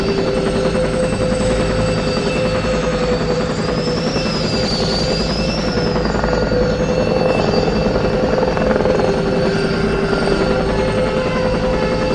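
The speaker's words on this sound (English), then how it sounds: "It's a Gazelle 16 gunship." French-made Gazelle gunship helicopter flying close by, a loud continuous rotor and turbine drone with a whining pitch that rises and falls slightly as it passes.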